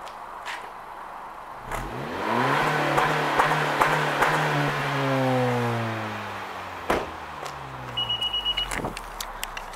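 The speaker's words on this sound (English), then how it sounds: "when you start the car, there's a nice little hum out of it" A 2018 Honda Civic 1.5 GT turbo petrol engine runs close by, its steady hum swelling as the revs climb and then easing back down, with a few sharp clicks and a faint high whine near the end.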